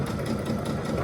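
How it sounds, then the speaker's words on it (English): A sewing machine runs steadily for a brief moment, its fast, even motor hum and stitching whir close and continuous as it sews a bag strap diagonally. "now I'm going to sew on the diagonal from that corner to that corner"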